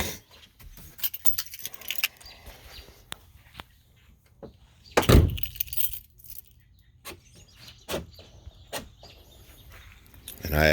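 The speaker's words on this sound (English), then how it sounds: "Lock my damn keys in here." Car keys jangle and rattle in repeated bursts, close and fairly loud, with one sharp louder clatter in the middle, beside a vehicle.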